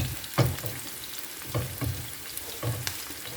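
Chopped onions frying in a pan, a low, steady sizzle broken by three stirring scrapes at roughly even intervals, close and moderately loud, with no voices.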